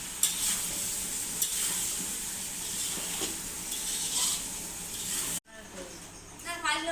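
Vegetables sizzle and hiss steadily in a hot kadai over fried potatoes, with occasional scraping stirs; the frying noise cuts off sharply near the end, followed by quieter kitchen sounds and brief voices.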